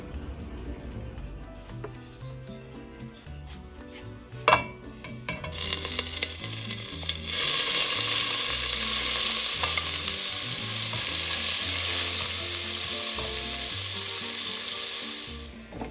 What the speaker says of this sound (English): I'm going to start frying up the pork.